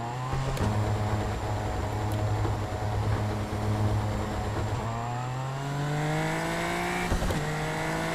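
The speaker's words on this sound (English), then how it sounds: "whenever you hit the rev limiter, listen to like the rev limiter" Race car engine in a racing sim video game at Talladega bounces off the rev limiter, a loud sustained buzzing drone that stutters, then rises in pitch as the car accelerates.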